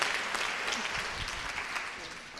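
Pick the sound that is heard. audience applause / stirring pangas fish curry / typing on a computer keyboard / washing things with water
audience applause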